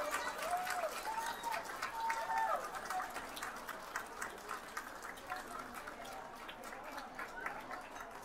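Audience applause at the Bac Ninh 2022 spring festival, right after a Chầu Văn folk performance: dense, steady clapping from a crowd, holding evenly for about eight seconds with a few faint voices mixed in.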